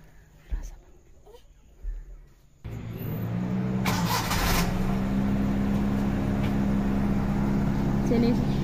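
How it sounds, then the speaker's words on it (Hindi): A few faint knocks come first, then a car engine starts abruptly as the car is about to drive out, settling into a steady, fairly loud idle that holds to the end. "चलिए गाड़ी बाहर निकलती है गेट बंद करके, मैं भी बैठ जाऊँ।"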